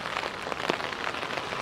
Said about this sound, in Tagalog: Hanggang Monday ang ulan, eh.